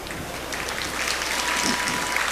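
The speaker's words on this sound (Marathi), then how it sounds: "टाळ्या वाजवण्याचा आवाज मला कळलाय केवढा आवाज आला तो" An audience at a devotional story-telling session claps in a dense, continuous burst of applause, fairly close, with no talking over it.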